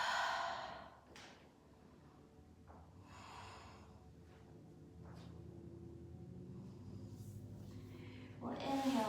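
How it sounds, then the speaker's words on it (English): Slow, deep breaths during a yoga forward fold, with audible sighing exhales at the start and end and quieter breathing in between, close and soft. "Take some deep breaths."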